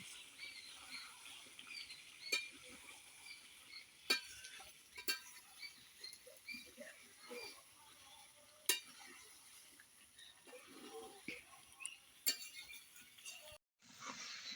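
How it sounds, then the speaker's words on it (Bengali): Chicken braised dry in a pan without water for a Kolkata-style biryani, stirred with occasional metallic clinks of the spoon over a faint, low sizzle, quiet and close. "এখন আবারও একটু নাড়াচাড়া করে নিতে হবে মাংসটাকে আমি পনেরো থেকে বিশ মিনিটের মতো খুব ভালো করে কষে নেব আর আমি কিন্তু কোনো জল দেবো না"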